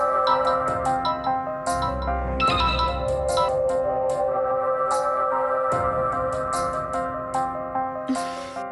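A phone ringtone melody plays loudly and steadily, ringing on unanswered with no voices over it.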